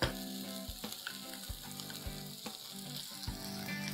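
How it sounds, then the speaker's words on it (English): Cashew nut paste sautéing in chicken masala gravy over a low flame, a steady close sizzle with soft bubbling and occasional stirring clicks, no talk. "I'm going to saute this for 3 to 4 minutes on a low flame."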